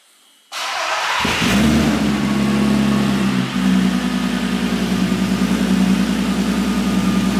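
A car engine fires up after a short silence and settles into a steady, deep, muffled drone through a new stainless steel exhaust, loud and close with no talking.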